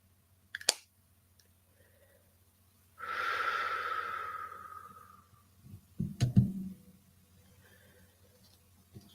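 A slow, deep breath taken during a guided meditation: one long, soft airy exhale in the middle, framed by a small click and a low rustle, with no talking.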